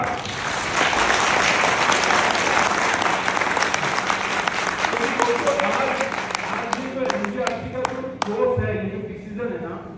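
Audience applause in a hall at a Guru Shishya Sammelan gathering in Alwar, dense and steady for most of the stretch, then thinning out toward the end as a few scattered claps and some murmured voices remain.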